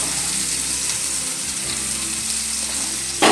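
Tempering for tomato chutney sizzles in a pan, a steady loud crackling fry hiss close by that continues evenly, with a brief louder burst at the very end.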